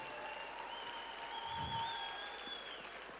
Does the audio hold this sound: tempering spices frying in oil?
no